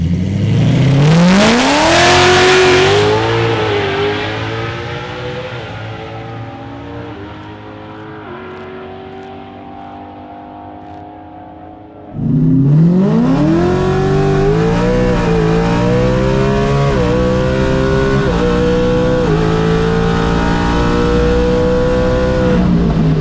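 Drag racing car launching down the track, the engine howling loudly as it rises through gears, then easing off before a second hard acceleration surges back in close and loud, with no talk.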